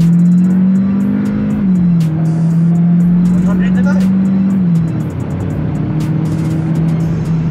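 A Changan car accelerates hard in sport and Super Race mode with paddle shifting, its engine note droning loud and close, climbing, dipping at the shifts, then pulling again.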